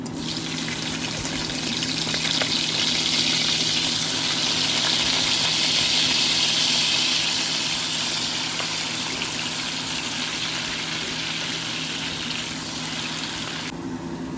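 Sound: chopped onion frying in oil with bay leaf

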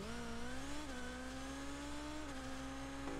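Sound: car engine sound from Rocket League video game

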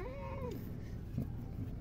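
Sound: cat meowing

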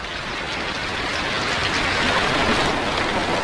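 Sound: rain falling

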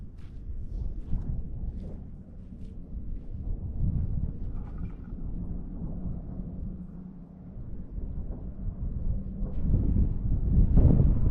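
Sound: wind

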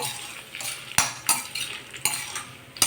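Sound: dried red chillies frying and being stirred in pan

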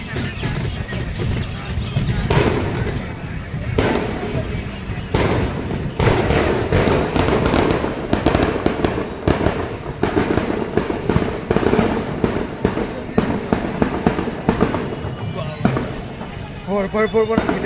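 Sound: fireworks for Kali idol immersion in a field

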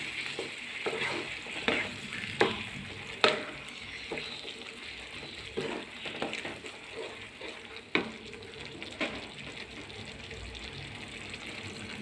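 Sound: stirring asafoetida powder into papaya pickle

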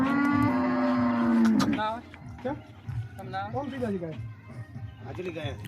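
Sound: cows mooing while being loaded

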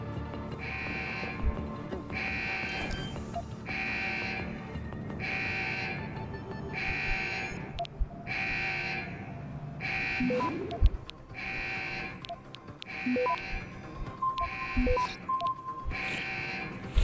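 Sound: alarm going off in video game Deus Ex: Human Revolution

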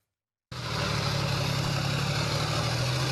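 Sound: heavy armoured vehicle engine driving on muddy road

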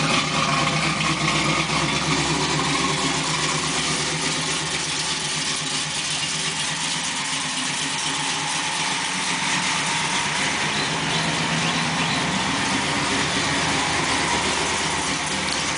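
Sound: 1995 Camaro Z28 engine idling through Flowmaster muffler

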